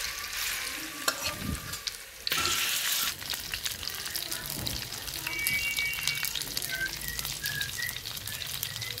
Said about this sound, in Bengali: তেল দিয়ে দিব, তেল গরম হলে মাছগুলো দিয়ে দিব